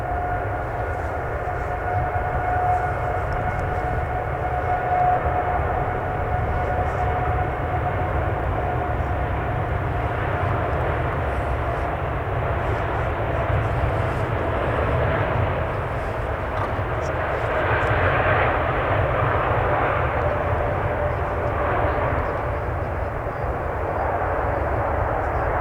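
Jet aircraft taking off at Manchester Airport, heard from a distance as a constant, steady engine roar with a sustained whine. It stays even throughout and swells slightly around the middle, with no talk.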